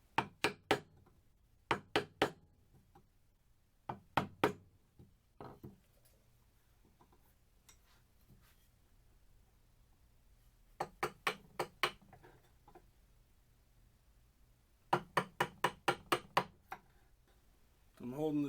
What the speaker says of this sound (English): I'm holding the chisel flat against the tenon right here. And then I'm just paring a little bit to smooth it out.